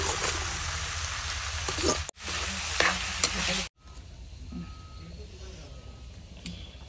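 Tomatoes sizzle in hot oil with onion, ginger, garlic and green chili, a steady close frying hiss broken by two short cuts, then a quieter, thinner sizzle with faint scraping.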